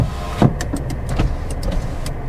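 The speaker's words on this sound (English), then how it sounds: "Do my windows work? They certainly do." Electric windows of a Renault Captur working inside the car, a short whirring motor sound with a few knocks and clicks, close and brief.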